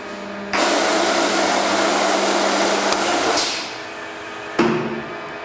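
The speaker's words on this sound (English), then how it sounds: "It's going to run its sequence. As it's cutting, I'm going to go ahead and hit the e-stop." A DL-NCD CNC machine cuts with a loud, steady roaring whine, then an emergency stop cuts it off and the noise winds down, followed by a short mechanical clunk near the end.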